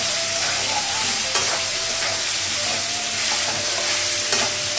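Fish heads coated in ginger paste, turmeric and cumin powder fry in a pan with a loud, continuous sizzle. Occasional spatula scrapes and stirs sound close by.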